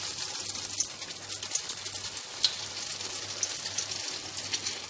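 Beignet dough dropped into hot oil sizzles in a steady, fine crackling hiss, close and moderately loud, with a faint low hum underneath and no talking.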